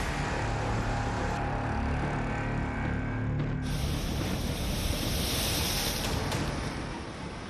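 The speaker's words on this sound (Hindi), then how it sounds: "डराने लगी हैं समंदर की लहरें।" Stormy sea waves churn during Cyclone Nisarga on the Maharashtra coast, a continuous loud roar of surf and wind with no pauses, mixed with a steady mechanical hum.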